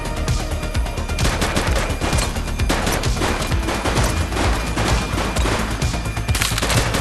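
Rapid automatic gunfire in the police game The Precincts, a loud, nearly unbroken fusillade of close shots with sustained machine-gun bursts over several seconds and no speech.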